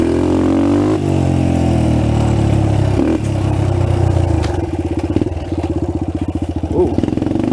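Trail bike engine running loud and close, its note rising and falling with a steady motor drone, then settling into a rapid, choppy pulsing as it bogs in third gear while riding through the woods.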